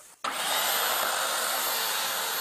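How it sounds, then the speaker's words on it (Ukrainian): Gasoline chainsaw cutting through cow carcasses outdoors, the blade pressed against meat on a pallet for a soldiers' canteen; a loud, steady engine whine starts abruptly after a brief quiet moment and holds for the rest. "на вулиці бензопилками пилять коров'ячі туші для солдатської їдальні"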